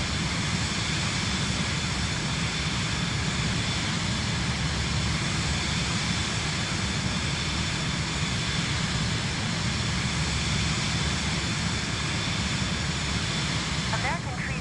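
Airliner landing in Microsoft Flight Simulator 2024, a steady broadband jet engine roar and wind rush holding loud and constant throughout.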